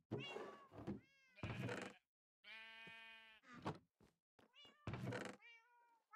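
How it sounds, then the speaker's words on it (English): Cat meowing in a Minecraft game stream, a series of loud, close, drawn-out meows and mewing cries separated by short silences, with no talk over them. "Cat."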